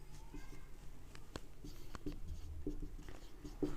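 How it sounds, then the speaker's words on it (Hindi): Chemistry equations for a thermodynamics problem being written by hand, heard as close, scratchy strokes with small taps and pauses, steady and quiet, with no talking. "चलो अभी मुझे यहाँ पे डेल्टा G0 फाइंड आउट करना है, मैं यहाँ पे लिख देता हूँ।"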